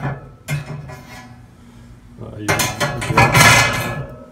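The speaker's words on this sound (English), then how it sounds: "So you can slip that in your hand here, like so, and lift your grate out." Metal clanks and scrapes as a SmokeWare ash tool lifts the cast grate out of a Big Green Egg grill, a few light taps first, then a louder rattling burst near the end, up close.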